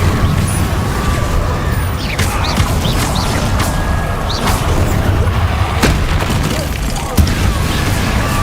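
Incendio fire spell cast in Hogwarts Legacy amid combat: loud, continuous roaring and booming game noise, with sharp cracks and impacts scattered throughout and faint brief whooshing sweeps.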